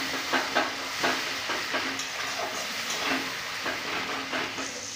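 Kashmiri chilli powder, turmeric, cumin and chopped tomato stirred and frying in a pan for a mustard curry, a steady close sizzle with scraping stir strokes recurring every half second or so.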